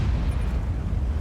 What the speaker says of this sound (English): Engage the rocket launcher now.